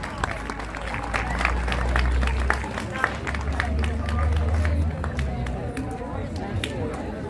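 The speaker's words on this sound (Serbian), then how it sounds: "Molim veliki aplauz za njih." Audience applause at a televised competition, dense clapping with crowd murmur that swells and then thins out, with people talking over it.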